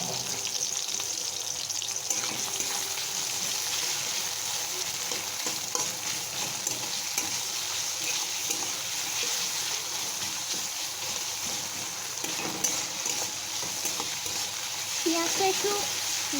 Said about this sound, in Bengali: আমি 4-5 মিনিট মতন পেঁয়াজটাকে ভালোভাবে ভেজে নিয়েছি।